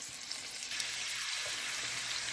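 Steady, loud sizzling of pork tenderloin searing in a hot pan, a continuous crackling hiss with no talking.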